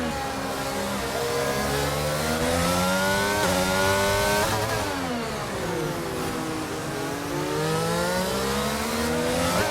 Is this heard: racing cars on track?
yes